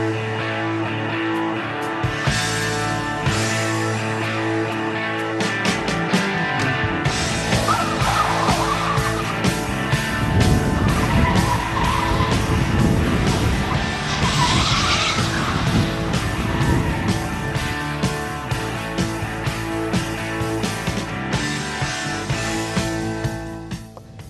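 A Dodge Challenger SRT8 with a 6.1-litre Hemi V8 skids on a frozen lake, its engine roaring steadily while the tires hiss and squeal continuously for over twenty seconds, loud and close.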